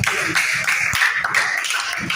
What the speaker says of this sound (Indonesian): tepuk tangan sekali lagi juga